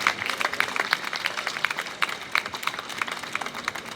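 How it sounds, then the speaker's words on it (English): An audience at a town hall gathering in Sydney claps steadily, a dense, even patter of many hands at moderate distance with no voices over it. "I'd also like you to give another round of applause for John Pilger as well"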